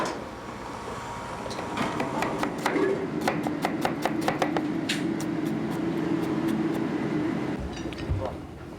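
Knife chopping food on a board in a small restaurant kitchen, a quick run of sharp, evenly spaced cuts against steady kitchen hum and low voices, fairly close and moderately loud.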